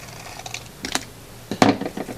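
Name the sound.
cutting folded paper along the fold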